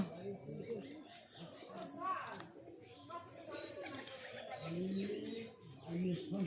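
A pigeon with pox, held by hand for medicine treatment, gives low soft coos mixed with faint rustling, heard close beneath a person talking steadily throughout.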